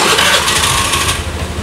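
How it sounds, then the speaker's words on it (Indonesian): A Honda Beat FI scooter engine cranks and fires up, settling into a steady, smooth idle heard close by with no talking. "kalau kita nyalakan mesinnya"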